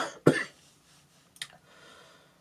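A man coughs sharply once up close, then a second shorter cough follows about a second later, with quiet breathing between and no speech.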